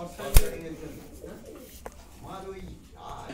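Soft cooing of a fancy pigeon at a loft in West Bengal rises and falls amid steady background chatter and outdoor noise, with one sharp click or knock near the start.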